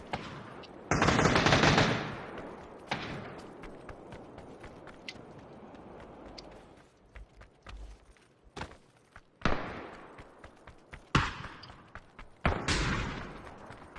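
Bursts of automatic gunfire ring out in a PUBG match: a long loud rapid volley, then scattered single shots and shorter bursts at varying distances, some close and sharp, others quieter.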